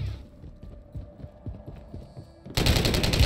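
Rapid gunfire in Warzone 3, a video game, striking the player: a quick run of sharp, evenly spaced shots, fairly close, ending in a louder burst of noise.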